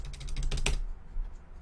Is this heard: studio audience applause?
no